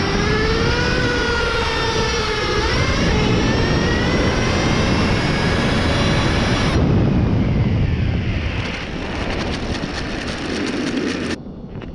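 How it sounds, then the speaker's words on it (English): A Traxxas Revo nitro RC car engine screams loudly with rising and falling pitch, then abruptly cuts out and seizes, leaving rough noise behind. "Engine just cut out."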